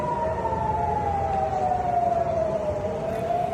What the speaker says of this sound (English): Air raid sirens sounded in Tel Aviv